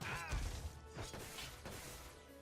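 A shield shatters in the Dungeonmans video game with a sharp crash and thwack, then breaks into a short burst of fragmenting and swishing game effects that fade out, with no talking.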